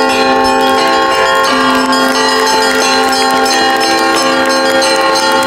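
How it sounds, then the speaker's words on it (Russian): A traditional Russian bell chime rings out to open a memorial concert for the singer Lyudmila Zykina: a sustained, loud peal of overlapping bells with steady ringing tones and no talk. "Концерт памяти начался с любимого артисткой исконно русского перезвона."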